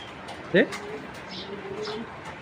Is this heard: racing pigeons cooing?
yes